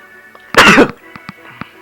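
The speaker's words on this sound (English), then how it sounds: "Here I go sneezing again." A single sharp sneeze bursts out loudly, followed by a few soft breathy sounds in an otherwise quiet room.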